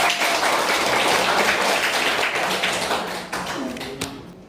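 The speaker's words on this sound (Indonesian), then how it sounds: "Tepuk tangan untuk kita semua." A room full of people claps together, a dense steady patter of applause that gradually thins out toward the end.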